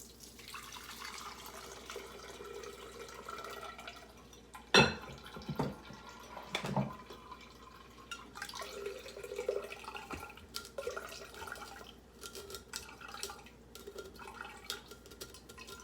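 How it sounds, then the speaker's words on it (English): Running water splashes and trickles inside a blender jar being rinsed out, with a couple of sharper clunks and knocks partway through, steady and close. "Now I'm just going to rinse the blender out."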